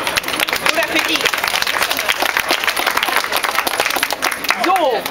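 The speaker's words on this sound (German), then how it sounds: "klatschen wir einmal für den." Outdoor audience at a Hamburg sailing club junior certificate ceremony claps loudly for a graduate, a dense burst of close applause, with voices over it.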